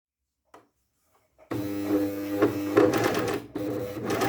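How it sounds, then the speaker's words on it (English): A sewing machine stitches the side seams of a flared top with puffed sleeves at a 1 cm seam allowance, starting after a quiet moment with a few faint clicks and then running steadily with a close, buzzing motor whir. "I'm going to attach the side seams with a 1 centimeter seam and then overlock it"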